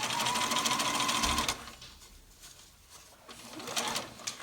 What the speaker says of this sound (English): you're going to sew a 1/4 inch seam. Start by back stitching for a few stitches.